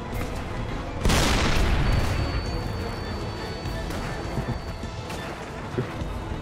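A tank explodes in the VR shooter Sniper Elite VR: one heavy boom breaks out of a rumbling battlefield background, then its crackling, roaring tail fades over a few seconds while low rumble and scattered distant bangs continue.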